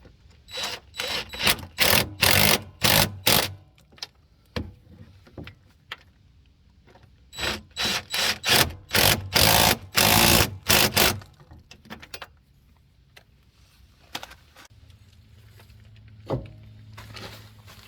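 Rear shock bolts on a Jeep XJ tightened with a power tool, two series of rapid, loud, close ratcheting bursts separated by quieter pauses and scattered clicks.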